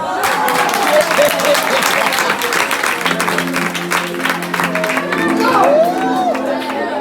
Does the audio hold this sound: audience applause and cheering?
yes